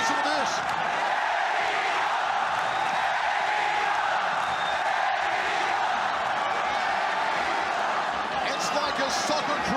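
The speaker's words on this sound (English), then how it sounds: "Here come the chants again, listen to this." A packed arena crowd roars and chants continuously at a ONE Championship fight for Kevin Belingon, a loud, unbroken wall of crowd noise with occasional whoops and cheers.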